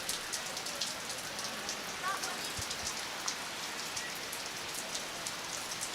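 Steady rain shower falling on an outdoor lawn bowls green during a state championship, a dense continuous patter of drops that swells and eases, with a faint voice briefly audible underneath.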